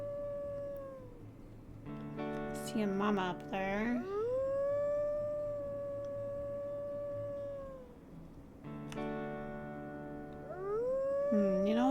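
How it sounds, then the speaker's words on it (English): Wolves in the WolfQuest video game let out long, clear howls, one rising and holding a steady tone, then another beginning near the end, with someone speaking briefly between them. "We need to howl some."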